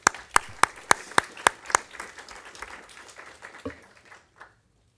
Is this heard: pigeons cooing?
no